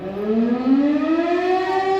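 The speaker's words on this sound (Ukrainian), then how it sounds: "лунає повітряна тривога" Loud civil-defense air raid siren in Kamianske, Ukraine, its wailing tone rising steadily and holding, sounding alone with no talk over it.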